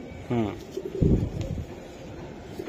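A python-bloodline racing pigeon, a male cock that has been raced, coos close by in a few soft throaty bursts, with a louder low rumbling burst partway through.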